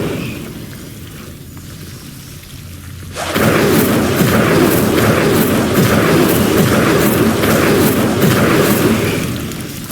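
Hogwarts Legacy's Incendio fire spell bursts in with a sudden loud whoosh and keeps up a steady roaring, crackling rush of flame that sustains for several seconds before easing slightly.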